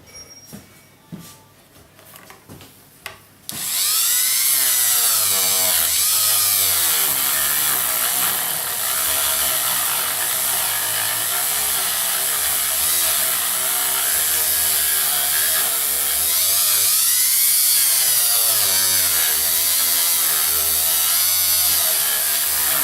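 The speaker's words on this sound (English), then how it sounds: "I'm going to have to Dremel that down a bit" A Dremel rotary tool grinds out a routing hole in a Stratocaster-style guitar pickguard, a loud, steady high-pitched whine that starts abruptly after a few quiet handling knocks and holds, shifting pitch slightly as it bites into the plastic.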